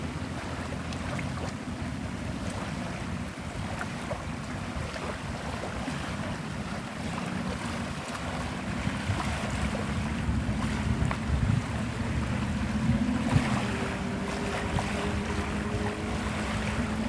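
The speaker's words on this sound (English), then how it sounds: "this is the Santa Rosa Sound in Navarre, Florida." Water and small waves of the Santa Rosa Sound at Navarre, Florida, washing steadily with constant wind rumble on the microphone, a continuous close wash with no voices.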